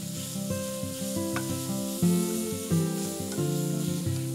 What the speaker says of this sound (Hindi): अब डालते हैं हमारी ये श्रेडेड बीटरूट और इसे हम पका लेंगे।